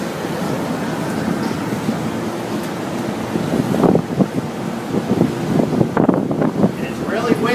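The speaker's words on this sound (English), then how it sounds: "And it's really windy today," Strong outdoor wind buffets the microphone in a steady low rumble, growing gustier toward the end, while a person talks over it.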